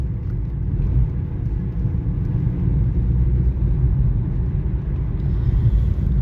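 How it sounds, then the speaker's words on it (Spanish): From inside the cabin of a first-phase Renault 11 GTL with a 1.4 engine, a steady, deep engine drone and road rumble run continuously while driving, with no talk over it. "El motor, sin llegar a molestar en el habitáculo el sonido, tiene un sonido rotundo y agradable."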